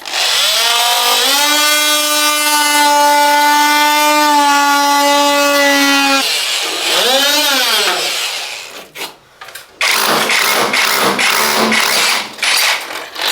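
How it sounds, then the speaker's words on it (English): A multi-tool works through the wall covering in a house being rewired, first as a steady loud buzzing drone for several seconds, then a wavering surge and a burst of rough cutting noise. "just grab the multi-tool and we'll cut out a section of covering"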